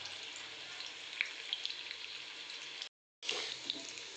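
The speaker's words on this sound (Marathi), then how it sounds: "मस्त डीप फ्राय त्याला करून घ्यायचं आहे आपल्या सोया चंक्सला" Soya chunks deep frying in hot oil, a dense, steady crackling sizzle heard close up, cut by a brief silence before bubbling on again.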